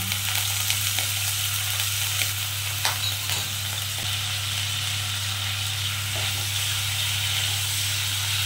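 Shrimp dusted with turmeric fry in a pan with a loud, steady sizzle and hiss, broken by occasional faint stirring scrapes, with no voices.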